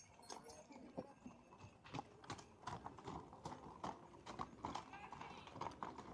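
Steady clip-clop of horse hooves on a hard surface at a Romanian festival, close by, with people talking over it throughout.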